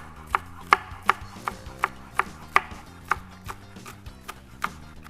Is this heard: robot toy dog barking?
no